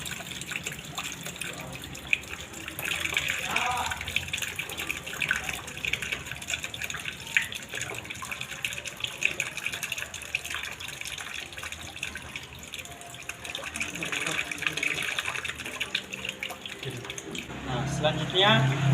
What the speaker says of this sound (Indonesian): cuci tangan 6 langkah